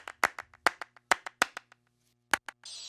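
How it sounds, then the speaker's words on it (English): Hand claps recorded through a MacBook's built-in microphone in a room, crisp and close, arriving in a quick uneven rhythm of about eleven sharp hits followed by a short pause and a burst of hiss. "a kick and some claps that I recorded in the same room on the same MacBook microphone"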